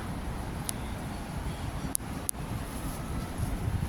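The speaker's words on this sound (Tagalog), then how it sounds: "Mahangin na." Wind rushing steadily against the microphone on Lee Tung Avenue, Wan Chai, Hong Kong, during the Mid-Autumn Festival, a low continuous roar with a few faint clicks, no one speaking.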